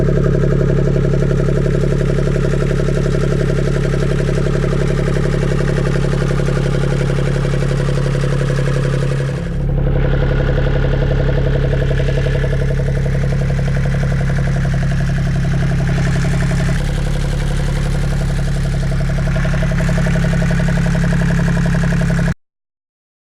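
A mechanical engine runs at a steady drone during winter servicing, loud and close, its tone shifting abruptly about halfway through before carrying on and cutting off at the end.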